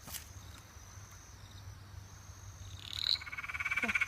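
A frog croaks at night in a quiet outdoor setting, with a short chirping call and then a rapid run of pulsed croaks close by over faint background hiss.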